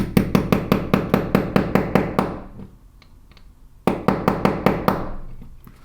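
Rapid metallic hammer taps on a pin remover driving pins from a metal watch band, in quick even bursts, a pause with faint handling, then another run of sharp close taps.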